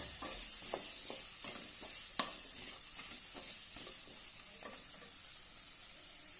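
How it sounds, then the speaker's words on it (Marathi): Drumstick pods stir-fried in a pan: a quiet, even sizzle punctuated by repeated scraping strokes of a spatula and one sharper knock against the pan. "आता यामध्ये शेंगा घालूया आणि छानपैकी परतून घेऊया"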